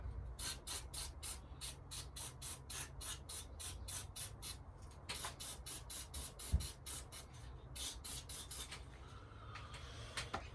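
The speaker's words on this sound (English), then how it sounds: "give that a spray up." An aerosol can hisses in a long series of short, sharp spray bursts into a salvaged Ryobi four-stroke blower, fairly regular with brief pauses between them, close and alone.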